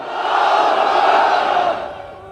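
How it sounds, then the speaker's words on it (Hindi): A large crowd at a Gujarat political rally roars the Nara-e-Takbir slogan in unison, a loud, sustained massed shout swelling for about two seconds before fading. "हाथ उठाकर कहिए नारे तकबीर, नारे तकबीर।"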